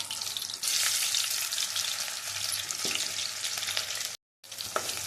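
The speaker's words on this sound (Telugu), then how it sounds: "ఆయిల్ హీట్ ఎక్కిందండి, క్యాప్సికమ్ వేసుకుందాము" Capsicum goes into hot oil in a kadai for a fried prawn capsicum pakodi curry, a sudden loud surge of sizzling that settles into a steady close frying hiss, with a brief cut near the end.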